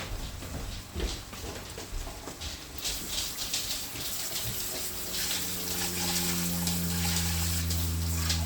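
Water running from a household tap during handwashing, a steady close rushing flow that grows fuller and more even toward the end, with a low hum underneath.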